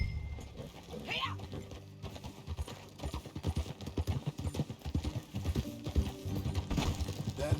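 Horse hooves clip-clop steadily while riding in Red Dead Redemption 2, a rhythmic near trot under music and game ambience, with a brief voice early on.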